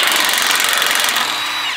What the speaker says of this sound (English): we can use our 16 millimeter deep socket to remove these brackets and drop the sway bar